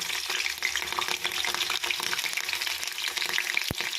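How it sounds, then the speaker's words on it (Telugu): Green chilies fry in oil for a fenugreek curry with a close, continuous crackling sizzle and occasional stirring scrapes, with no talking. "మెంతికూర వండుతున్నాను ఆయిల్ పోసుకుంటున్నాను పచ్చిమిర్చి వేసుకున్నాను"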